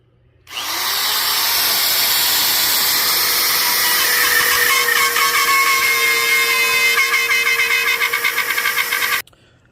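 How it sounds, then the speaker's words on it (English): A high-pitched rotary power tool whines steadily for about nine seconds, loud and close, with a grinding rasp as it cuts a slot in a sheep taxidermy mannequin, then stops abruptly. "I'm going to use this Brodo Zip to make this bigger slot for this sheep."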